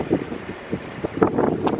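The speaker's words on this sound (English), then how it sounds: "it's windy too" Outdoor wind on a warm day blows across the microphone in uneven low buffeting thumps and rumbles, short irregular gusts over a faint steady hiss.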